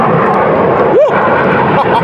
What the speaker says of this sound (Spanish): Miren, ahí se ven los aviones de guerra.